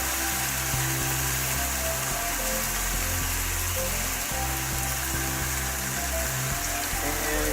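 Steak sizzles on a hot grill under marinated onions, a steady dense crackle and hiss that stays even and close throughout, with faint clanks from below.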